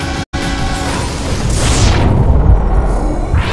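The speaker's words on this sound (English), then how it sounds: "press the level 2 power button to trigger bigger explosions" A deep boom erupts, followed by a rumbling blast and crackling debris, explosions in the racing video game Split/Second, loud and with no speech.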